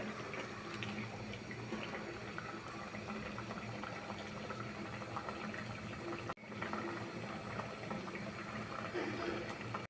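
Tomatoes simmer in a covered pan for a prawn and olive sour curry, giving a steady, quiet bubbling hiss with a brief break partway through.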